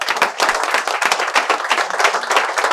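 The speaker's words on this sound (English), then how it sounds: "Release your stress by applauding yourself once more." A seated audience at a motivational public speaking event claps loudly and briskly, many hands overlapping into dense, uneven applause that pulses without letting up.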